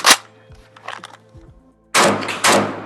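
A Beryl 5.56 rifle fires during a Pro Mag magazine test: one sharp, loud report, then handling clatter, and after a brief silence a longer, heavy, booming blast.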